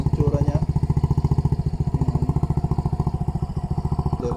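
Suzuki Burgman 125 scooter fitted with a KAO Killer exhaust pipe, running close by with a steady, loud pulsing idle, its rapid regular exhaust beats holding throughout.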